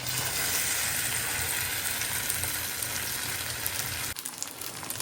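Rice paper dumplings fry in ghee in a pan over a low flame, giving a steady, close sizzle that runs without a break and eases off slightly near the end.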